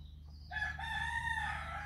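A hen and her chick call near each other, with a high sustained chirping tone over soft clucks and a low steady background hum, no talk.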